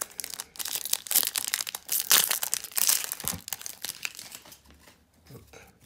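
Yu-Gi-Oh! booster pack foil wrappers being ripped and crinkled open close up, a busy burst of tearing and crumpling that fades to quieter rustling near the end.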